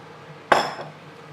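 A single sharp metallic clink of a utensil against a pan while Hokkien noodles thickened with cornstarch are stirred, followed by a short fading rattle in a quiet kitchen.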